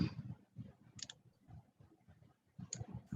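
A computer mouse clicks repeatedly during clicking and dragging in CorelDRAW, crisp close clicks in irregular bursts with soft handling noise between them.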